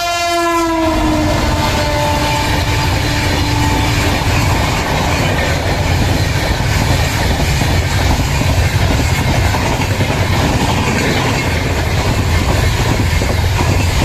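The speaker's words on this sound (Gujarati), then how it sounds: "વચ્ચેથી ટ્રેન પાસ થવાની છે" A train horn sounds briefly at the start, then a loud, continuous rumble and rattle of rail cars rolling past close by on the railway track.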